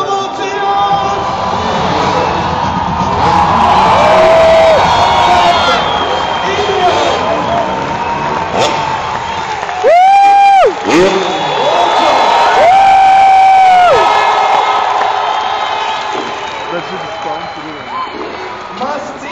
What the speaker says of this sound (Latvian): Lūdzu, aplausi, emocijas!